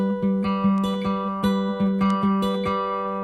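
Acoustic guitar fingerpicking pattern for a song, played solo with clear evenly spaced plucked notes over a steady ringing low bass string, close and moderately loud, with no talking.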